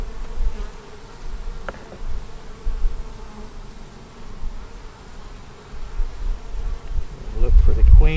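Honey bees buzz steadily around a hive frame loaded with pollen, a low continuous hum that swells louder near the end.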